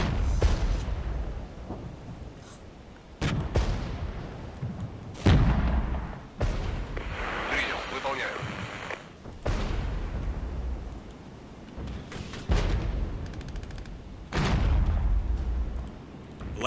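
Rifle fire and artillery booms in a Cold War real-time strategy video game, repeated heavy blasts and rumbling explosions every second or two over a continuous battle din.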